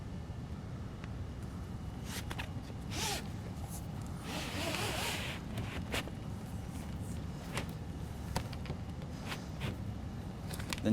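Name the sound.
zipper on Jeep soft top rear window being zipped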